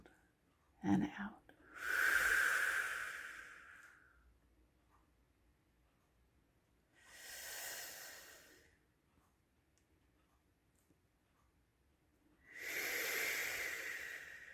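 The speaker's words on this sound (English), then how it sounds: "Breathing." Slow, deep breaths during meditation: three long airy exhales, each several seconds long, separated by quiet pauses, close and soft, with a short sniff at the start.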